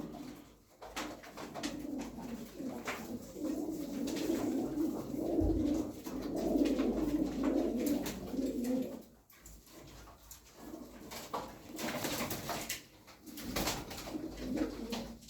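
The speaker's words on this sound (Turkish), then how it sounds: "9 tane hünkârı var burada" Hünkari pigeons coo in repeated low, rolling phrases at close range, with a brief thump partway through.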